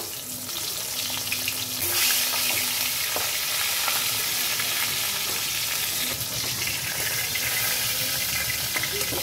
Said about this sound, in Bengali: তেল গরম হয়ে গেছে, এবার মাছগুলোকে আমি একটা একটা করে ফ্রাই করব।